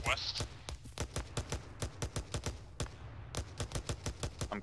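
Gunfire in the Arma 3 video game, rapid cracking shots in quick bursts with short pauses between them, steady and moderately loud, while a voice speaks over them.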